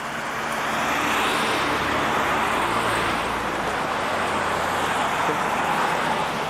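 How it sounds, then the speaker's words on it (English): Street traffic on Mass Ave in Lexington passes as a steady broadband roar of cars, fairly close and constant, with no distinct single vehicle standing out. "And yes, the traffic is pretty noisy."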